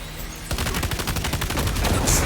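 Gunfire in Death Stranding 2: after a brief lull, a rapid automatic burst of shots runs steadily for nearly two seconds, loud and close, ending in a bright impact.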